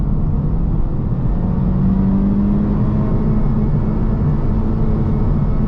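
A 2023 Honda Civic Type R (FL5) accelerates hard in second gear toward 60 mph, a loud steady engine drone with a rising tone heard from inside the car, with no talk.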